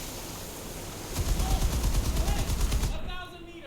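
Naval guns firing in War Thunder, a dense burst of rapid rattling shots lasting a couple of seconds, loud and close, then cutting off into quieter background noise.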